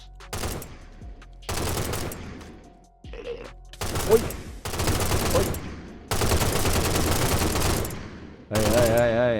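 Bursts of gunfire from a Minecraft server game, a run of loud, dense broadband volleys separated by short gaps, with some mixed game noise.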